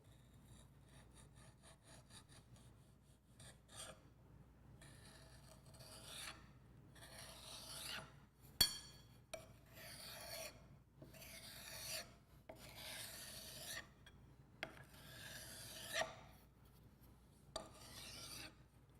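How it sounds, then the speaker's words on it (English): A metal straight edge scrapes and rasps across compacted soil to trim the top of a Proctor compaction mold, repeated close strokes with short pauses between them. "Using the straight edge, trim smooth the top of the soil mold."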